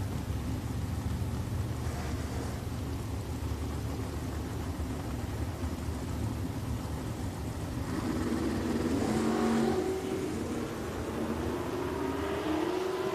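A 1972 Ford Mach 1 and a Camaro at a drag strip, engine noise rumbling steadily at a distance before rising revs climb toward the end.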